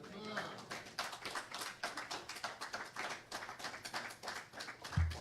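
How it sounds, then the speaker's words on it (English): An audience at a religious community gathering breaks into steady, moderately distant applause, a rippling stream of many hands clapping that continues for several seconds, with faint voices underneath. "Let's give Sister Kudisa another round of applause."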